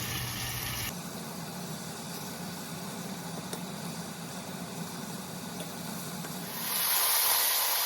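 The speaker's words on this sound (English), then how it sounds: "my chicken is really sizzling" Chicken sizzles in a pan on the stove, seasoned with onion and garlic powder, a continuous hissing frying sound that gets louder and brighter near the end, with no talk.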